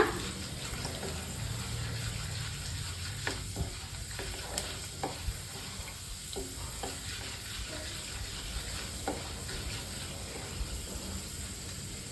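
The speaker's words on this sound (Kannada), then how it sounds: "ಕಡಲೆಬೇಳೆ, ಮೆಂತ್ಯ, ಇದಿಷ್ಟನ್ನು 2 ನಿಮಿಷ ರೋಸ್ಟ್ ಮಾಡ್ಕೊಳ್ಳೋಣ" Chana dal and fenugreek seeds roast dry in a pan, with a steady soft sizzle and scraping stir strokes throughout, plus faint clicks of the spatula against the metal.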